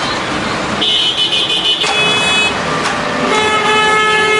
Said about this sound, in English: the traffic is absolutely nuts